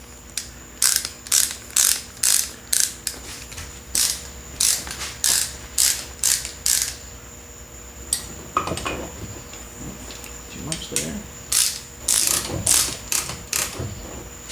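A brake caliper piston compressor tool on a 3.0T car is cranked by hand, a rapid run of loud, close ratcheting clicks coming in bursts with short pauses and faint handling noises between them.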